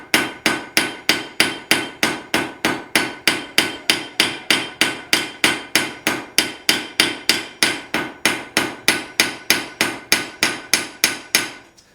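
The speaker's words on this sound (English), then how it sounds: "we lay it on the anvil and hammer it a little bit" Blacksmith's hammer strikes hot steel on an anvil while flattening a piece for a forged iron rose, a steady close rhythm of about forty ringing blows that runs without a break.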